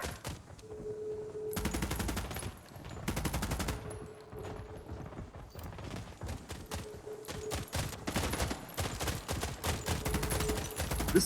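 Heavy gunfire in The Expanse: Osiris Reborn, dense bursts of automatic fire crackling in repeated volleys with a faint steady tone beneath, loud and close throughout.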